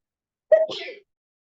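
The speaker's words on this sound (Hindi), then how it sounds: "एकदम से छींके आ गई, ठंड बढ़ गई है" A single sharp human sneeze, close and fairly loud, a quick intake burst followed by a breathy release lasting about half a second, set in an otherwise silent indoor lecture setting.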